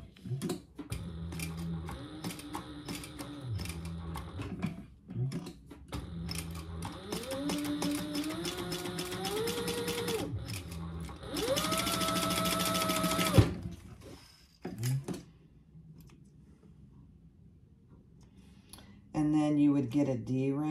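A sewing machine stitches down each side of a fabric wristlet tab in several bursts of rapid mechanical whirring, separated by pauses, while someone talks over much of it.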